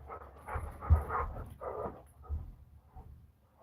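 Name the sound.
dogs panting and whimpering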